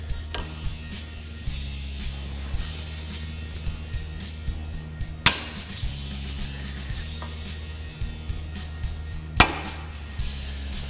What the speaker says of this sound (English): What we're going to do is take our snap ring pliers,